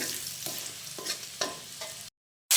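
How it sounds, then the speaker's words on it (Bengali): Chopped garlic and green chilli sizzle in hot oil while a utensil stirs in a few scraping strokes, the frying steady and close before a brief cut to silence and a sudden loud return. "ভালো করে ভেজে নেব রসুনটাকে।"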